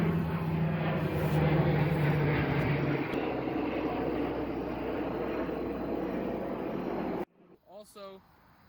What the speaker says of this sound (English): Sorry, there's an airplane.